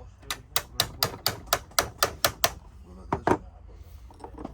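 A toy hammer from a toy excavator set strikes in a series of sharp, evenly spaced knocks, about ten in a row, followed by a couple of louder hits.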